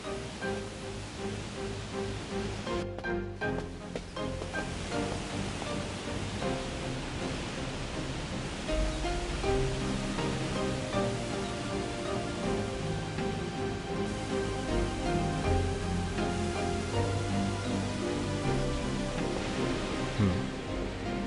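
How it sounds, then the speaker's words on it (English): In Shenmue II, a steady waterfall hiss rushes continuously in the background, with faint game music and tones layered over the constant broadband wash. "What is that sound? It sounds like a waterfall."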